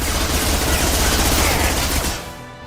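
Sustained rapid video game gunfire fills the space, a dense continuous barrage of shots that holds loud for about two seconds before tailing off.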